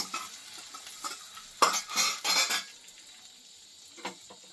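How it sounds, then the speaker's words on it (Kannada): Mustard seeds splutter in hot oil in a home kitchen pan, a quiet crackle that flares into two or three brief sharp bursts of popping and sizzling, then settles to faint scattered pops and light scraping. "ಸಾಸಿವೆ ಸ್ವಲ್ಪ ಸಿಡಿಬೇಕು, ಹಾಕೋತೀನಿ"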